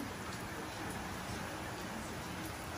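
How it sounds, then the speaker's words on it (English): Steady rain falls outside a house, a continuous even hiss of drops on surfaces at moderate level with no breaks or other sounds standing out. "It is raining."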